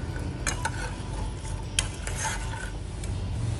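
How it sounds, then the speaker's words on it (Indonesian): Palm sugar syrup stirred in a pot with a utensil, a steady scraping and swishing with a few sharper clinks against the side, close and moderately loud with no talking. "Aduk-aduk terus sampai semua gula merah benar-benar larut dan airnya mendidih"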